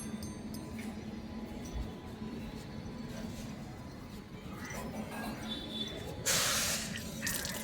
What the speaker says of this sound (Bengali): একদম কল খুলে হাত ধুয়ে দিল